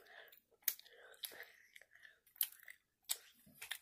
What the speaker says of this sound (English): Wait till you're done chewing that one.